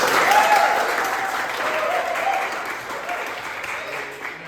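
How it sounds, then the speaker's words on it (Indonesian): Applause from a classroom audience fills the clip, with close, steady clapping that slowly fades toward the end. "tepat sekali, kita aplaus dulu"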